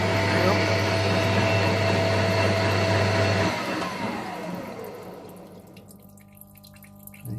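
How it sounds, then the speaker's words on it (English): A metal lathe spinning a rifle barrel hums and whines steadily, then is switched off and winds down over a few seconds into quiet, with a voice speaking near the end. "So I'll stop the lathe."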